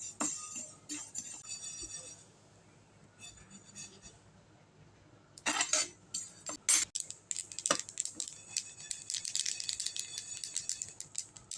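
Sesame seeds roast in a pan, first with a soft scattered crackle, then with a dense run of sharp irregular pops and rattles, close and fairly quiet.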